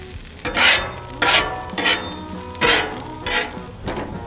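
Hash browns on a Blackstone griddle, scraped and flipped with a metal spatula in several loud, rhythmic bursts of scraping and sizzle separated by short pauses, with no voices.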